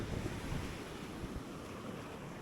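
Ocean waves breaking on an Australian surf-fishing beach, a continuous loud rushing wash with gusty wind noise on the microphone and no voices.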